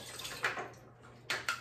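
Half a cup of water poured while making candy grapes, short splashing bursts close by, with brief pauses between pours.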